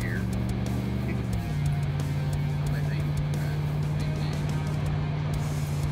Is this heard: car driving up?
yes